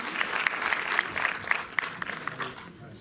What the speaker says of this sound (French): Si tu viens nous rejoindre, sous vos applaudissements, Ralph Eltabet